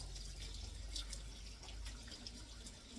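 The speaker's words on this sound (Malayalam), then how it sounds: "കൈ കഴുകി ഒന്നുകൂടെ മുഖം കഴുകിയേക്കാം" Tap water runs and splashes faintly into a sink as hands and face are washed, a soft, steady trickle with small irregular drips and splashes, heard alone.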